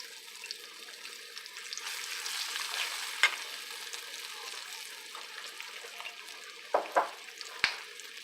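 Chili powder fries in oil in a pan for a village-style rasam. A soft, steady sizzle runs throughout, with a few sharp clinks and scrapes of stirring near the end.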